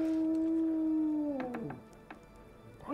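A dog howls outside in the medieval game Kingdom Come Deliverance, one long sustained wavering howl that trails off, followed by a few short yips and whimpers, clear and fairly close with no talk.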